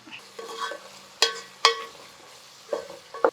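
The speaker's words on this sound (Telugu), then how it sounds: "ఉల్లిపాయలు కొంచెం వేగాలి కదా అందుకని నెమ్మదిగా వేయిస్తున్నా" Onions slowly frying in a pan for an Andhra-style prawn pulav, with a soft sizzle under a few sharp stirring scrapes and clacks of a spoon against the pan, close up, no talk.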